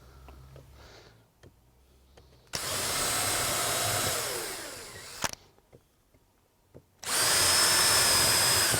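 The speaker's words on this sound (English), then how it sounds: "I'm just going to drill through there like that" A loud power drill whirs steadily for a few seconds as it drills through a wall, stops, then starts again in a second burst after quiet rustling and small knocks.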